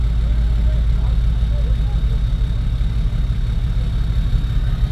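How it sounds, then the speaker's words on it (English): A loud car exhaust idles at a car show in Warsaw, holding a deep, steady rumble at close range throughout while crowd noise and chatter carry on around it. "Damn, exhaust is louder than the stereo, I think."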